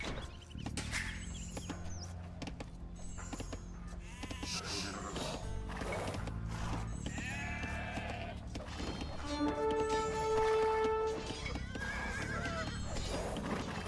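In Age of Empires II, sheep bleating mixed with horse whinnies and other game effects, a busy steady backdrop with a brief sustained tone near the end.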